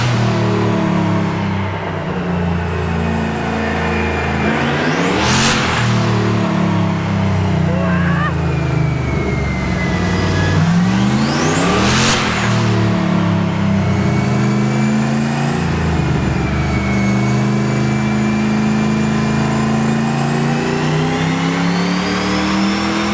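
A big-turbo LS6 V8 in a Volvo sleeper runs on a dyno, revving hard in two long pulls that climb to a screaming peak and fall back. Loud and close over a constant mechanical roar, with some talk underneath.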